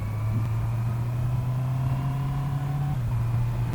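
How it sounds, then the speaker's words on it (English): A steady low engine drone from a Honda CBR650R motorcycle exhaust hums at a constant pitch, smooth and continuous, dipping slightly near the end, with no voices. "so you hear more the exhaust note"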